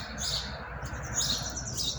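A rescued small bird perched on a hand chirps in short, bright tweets, several close calls repeating over a steady background hiss.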